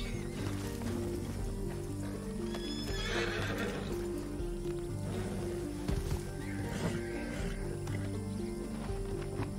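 Horses in Red Dead Redemption 2 neigh and whinny over steady clip-clopping hooves, loud and close, with a busy game soundscape of low rumbling beneath and brief voices.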